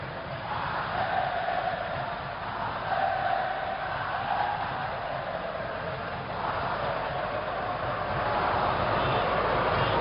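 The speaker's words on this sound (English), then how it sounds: "they are certainly going to make plenty of noise, this crowd" A stadium crowd at the Indonesia vs Argentina football match makes a constant distant roar, a broad even wash of massed voices that swells slightly in the final seconds.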